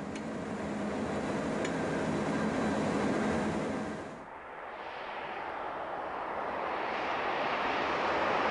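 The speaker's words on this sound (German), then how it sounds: "Ein Interregio saust mit Tempo 200 über die Neubaustrecke Oebisfelde-Berlin" An Interregio passenger train hauled by a class 103 electric locomotive roars past at 200 km/h on the Oebisfelde–Berlin high-speed line, a loud broadband rush that peaks and then fades as it recedes.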